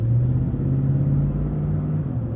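Lexus GX with a muffler delete, driving at low revs with a steady deep exhaust rumble and drone, loud and close throughout, no talking.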